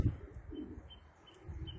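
Soft, low cooing from a blue tumbler pigeon, a game bird known for flipping in flight, heard nearby in a few gentle murmuring phrases with a faint bird chirp above and no talking.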